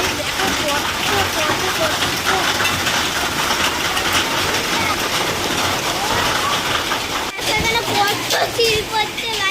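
A heavy outdoor downpour with hail pelting down forms a dense, continuous hiss and patter throughout, while a person talks over it nearby.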